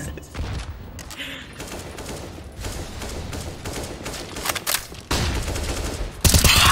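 Rapid bursts of gunfire crackle through a round of the video game CS:GO, with fusillades and a louder volley near the end, under excited in-game chatter.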